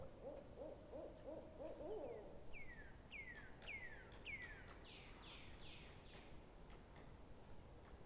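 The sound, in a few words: birds calling back and forth in a forest at dawn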